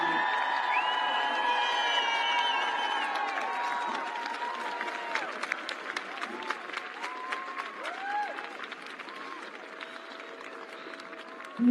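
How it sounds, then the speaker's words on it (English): A crowd applauds venerable Buddhist monks at the close of a peace walk, clapping fading over time with scattered cheers and whoops, while tonal voices or chanting-like sounds ring above it. "can we all give a big round of applause to all of our venerable ones?"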